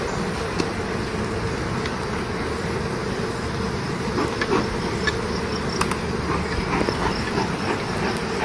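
Dense, steady buzzing of a honeybee colony as a hive is opened and smoked underneath on a summer day, a continuous drone with faint higher whines and no talking.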